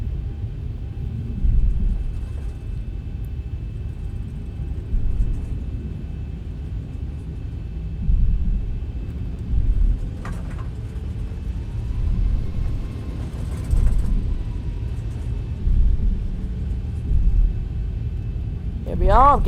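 Aircraft engine rumble on a circle-to-land approach into Innsbruck in the X-Plane 11 flight simulator, a steady low drone with swelling pulses, under a voice talking.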